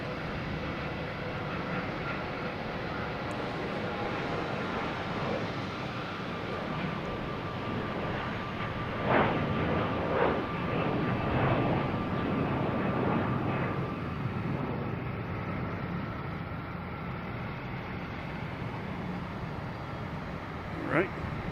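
American Airlines Embraer E175 regional jet at Boston Logan, a sustained engine rumble and whine that builds to louder surges midway and then eases, with someone talking over it.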